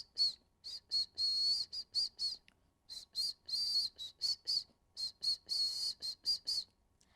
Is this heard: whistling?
yes